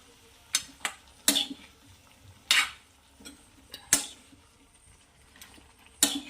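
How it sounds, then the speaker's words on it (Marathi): Broad bean pods being stirred in a small kadhai, giving several separate metal scrapes and clinks of the spoon against the pan at an uneven pace, fairly close, with no talking. "आता छान याला मिक्स करून फिरवून घ्यायचं आहे"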